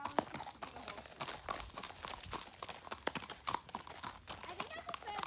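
A large horse's hooves clip-clop in a steady walking rhythm, faint and fairly close, while people talk over the footfalls.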